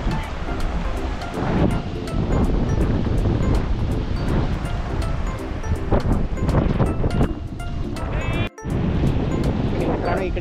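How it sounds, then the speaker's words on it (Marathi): Sea waves roll in and break on Nagaon beach near Alibaug, a broad, loud surf roar with wind buffeting the microphone and a person talking over it. "तशा समुद्राच्या लाटा एकावर एक आपडताना"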